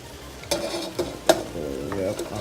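Spinach and meat cooking in a pan, with a steady frying sizzle and a few sharp stirring scrapes and clinks from utensils. No one talks over it.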